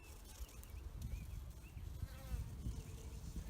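Honeybees buzz around a nuc box outdoors, a soft continuous hum with a few individual bees droning close by and drifting past, faint and steady throughout.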